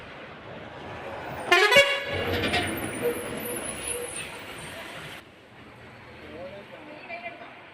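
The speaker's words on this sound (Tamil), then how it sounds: "வருது பஸ்ஸு வருது." A bus pulling in at a busy bus stand in Tamil Nadu, giving a short burst of horn toots over a loud street din and nearby chatter, then the noise drops away.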